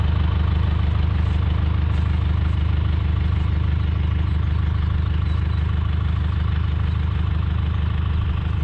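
A farm tractor, hooked up to a vegetable planter, idles steadily in a field. A loud, constant low engine drone with an even mechanical throb runs unbroken with no talk.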